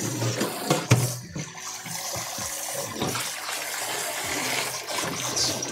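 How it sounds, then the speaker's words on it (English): Tap water runs into a sink bowl while a pizza bowl is being washed, switched to hotter water. The flow splashes steadily and close by, with clinks and knocks of the bowl being handled. "I'm gonna switch to hotter water."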